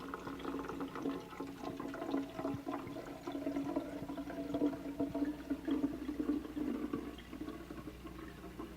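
A drink poured into a container, a continuous rushing, gurgling trickle of liquid lasting several seconds, close and steady, with no voices.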